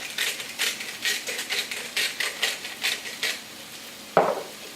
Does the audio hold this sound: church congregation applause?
no